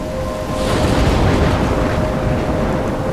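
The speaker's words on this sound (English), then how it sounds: "I'm trapped in a storm?" A heavy thunderstorm with pouring rain in the video game Life Is Strange, a dense, loud, continuous roar of rain and wind that swells slightly after the first half-second and holds steady throughout.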